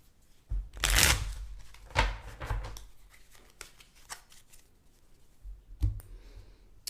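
Papery riffling and flicking of a deck of Onirim game cards being shuffled, in a loud burst then scattered softer taps and clicks, close by.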